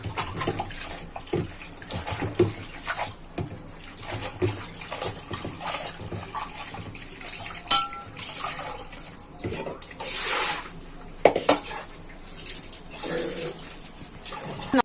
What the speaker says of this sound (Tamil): நல்லா துணியை அலசிட்டு நல்லா ஒட்டை பிழிஞ்சுக்கணும் பாருங்க